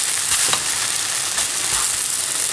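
A crêpe cooks in a pan over medium heat, giving a steady, close hiss of sizzling batter with faint soft scrapes, heard alone without talk.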